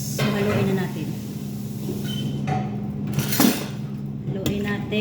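Food tossed with an olive oil dressing in a bowl, heard as clinks and scraping clatter of utensils against the bowl under steady background hum, with a person talking over it.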